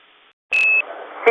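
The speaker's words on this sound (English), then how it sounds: "we're about to begin pressurization. There will be a master alarm in Claxon." A master alarm klaxon gives one sharp, loud electronic tone during spacecraft cabin pressurization, followed by a shorter second burst over faint radio-like background noise.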